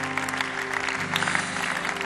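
A church congregation applauds and acclaims in a steady, dense wash of clapping that holds for the whole stretch, with musical tones sustained underneath.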